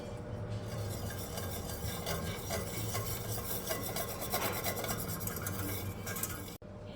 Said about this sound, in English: I'll just whisk those together until we get a gravy-like consistency